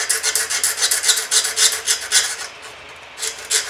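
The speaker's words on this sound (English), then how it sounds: "And now I'm filing each corner." A corner of a small tin piece is hand-filed with quick, steady rasping strokes, close and bright, that stop briefly near the end before a couple more strokes.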